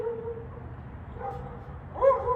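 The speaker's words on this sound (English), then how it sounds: "There goes Lily, my neighbor's dog, back there" A neighbor's dog barking and whimpering in the distance, a few faint high yips and whines in a quiet outdoor setting, growing slightly louder toward the end.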